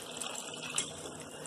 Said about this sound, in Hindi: अब मैं गैस को ऑफ कर दूंगी और इसमें थोड़ा सा ठंडा पानी मिला दूंगी